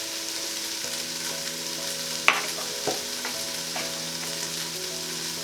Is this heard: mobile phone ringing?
no